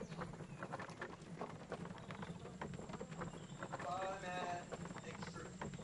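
Horse hooves clip-clop in the riding video game My Little Riding Champion, a rapid repeated thudding gait running continuously at moderate level, with a droning background and a brief tonal game sound partway through.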